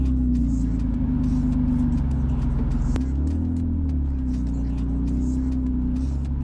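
A drift car's engine runs close and loud after reassembly, with a deep, steady rumble and low throb and slight rises in pitch.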